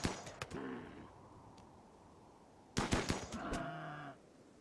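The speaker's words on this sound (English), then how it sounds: "Cobra joins the party and immediately goes to work with the assault rifle" Assault rifle fire in Rimworld during a Muffalo hunt: a short burst of crisp shots at the start, then a quiet gap, then a second rapid burst, fairly faint overall and with no voices.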